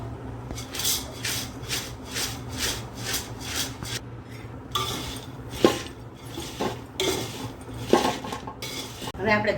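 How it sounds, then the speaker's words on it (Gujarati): Popped sorghum being stirred and tempered in a metal pan, a steady series of scraping, clattering spoon strokes against the pan with a few sharper knocks, close and fairly loud, no talking. "હવે આપણે ધાણી વઘારી નાખી છે।"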